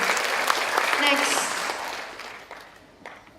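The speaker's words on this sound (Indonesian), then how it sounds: "Tepuk tangan untuk kita semua." Applause and cheering from young participants at a sanitation jamboree workshop, a lively burst of clapping mixed with voices that fades over about three seconds.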